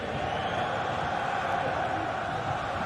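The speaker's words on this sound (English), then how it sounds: "Well, just listen to this crowd." Dense, steady roar of a football stadium crowd during a match, a continuous broad wash of many voices filling the whole stretch without a break.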